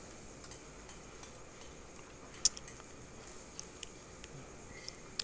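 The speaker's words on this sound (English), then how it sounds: "will saute our garlic and a lot of onion" Garlic and onion sautéing in a pan give a faint, steady sizzle, broken by scattered light clicks and one sharper clink of a utensil stirring against the pan.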